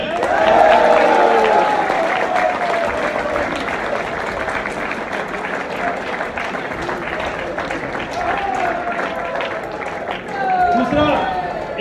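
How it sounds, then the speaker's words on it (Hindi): An audience at a sales leadership meeting breaks into sustained applause lasting over ten seconds, dense and steady with cheering voices and talk woven through, swelling again near the end. "एक ताली हो जाए"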